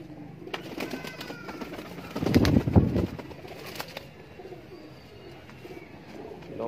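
Soft cooing from high-flyer pigeons rises briefly in the middle, a low throaty burble over quiet background ambience with a few faint clicks.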